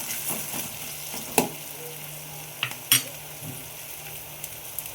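Maggi masala and spices stirred and frying in a pan, a steady soft sizzle with a few sharp clinks of a spoon against the metal, no voices.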